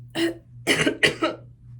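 Three or four rough, breathy coughs from one person, close and fairly loud, the first alone and the rest in a quick cluster, over a steady low hum.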